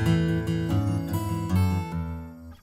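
The same cartoon magic whistle now gives rich, plucked, harp-like tones in quick succession, loud and close, fading out at the end.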